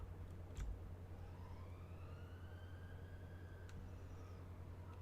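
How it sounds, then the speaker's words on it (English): Distant emergency vehicle sirens wail in a city in the video game Cities Skylines, their faint rising and falling tones gliding over a low, steady traffic hum. "More sirens."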